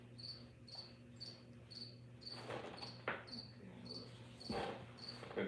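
Crickets chirp in a steady pulsing rhythm, several close trills repeating about twice a second over a low electrical hum, with faint rustles and background noise and no talking.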